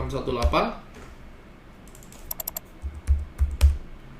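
Numbers are typed on a computer keyboard, sounding as a handful of close, sharp key clicks in a quick burst near the end, after a brief bit of speech at the start.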